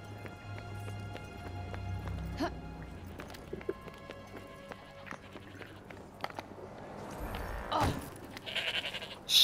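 Sheep bleating in the Avoalet farm area of the video game Forspoken, with brief bleats over an ambient game soundscape of hoof-like clopping and other animal sounds, moderately loud.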